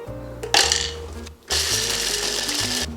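A food processor grinds caramelized pistachios for a paste. The motor whirs loudly with a rattling hum, cuts out briefly partway through, then starts again and runs steadily to the end with no voices.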